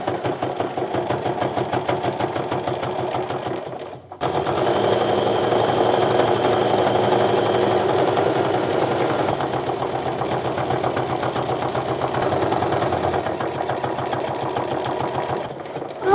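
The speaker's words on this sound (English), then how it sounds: "I'm just gonna start sewing kind of in the middle to go around all this" Sewing machine running steadily as it stitches around a fabric wallet, a close, even mechanical whir with a rapid needle rhythm, one brief stop near the start before it resumes and runs continuously.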